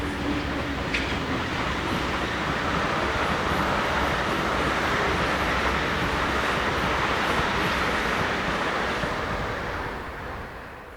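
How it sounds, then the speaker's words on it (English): Swiss Class 620 locomotive slowing with a long rake of box wagons bound for Limmattal yard, a broad continuous rolling roar with a brief squeal near the start, steady and close before fading at the end. "Six 20-065 slows with a lengthy set of box wagons bound for the nearby Limmattal yard."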